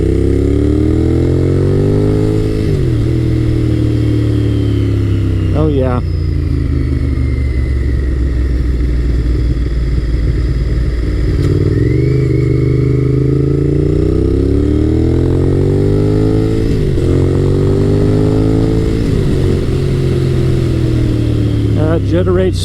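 A 1990s Honda sportbike, one of the CBR1100XX, VTR1000, VFR800 or NT650, revs loudly and accelerates through several rising pulls with gear changes and engine braking between them, heard close up under steady wind rush.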